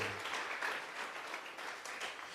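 A church congregation at a general vigil service claps steadily in a sustained wash of applause, dense and fairly distant, offered up as praise to God.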